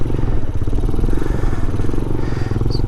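A Vader 125cc Grom clone motorcycle revs hard through circle wheelies, its small single engine buzzing loud and close with a pulsing, wavering drone and some wind buffeting.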